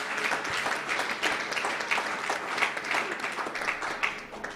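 Congregation in a church applauding the Lord, a steady dense wash of many hands clapping throughout at moderate loudness, with faint voices mixed beneath.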